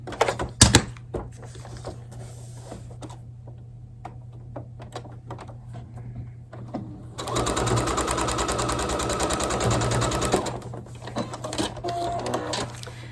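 A sewing machine stitches a paper-pieced blue triangle for a quilt block, with a loud steady run of rapid needle strokes lasting about three seconds, after sparser clicks and handling sounds, close up and without talk.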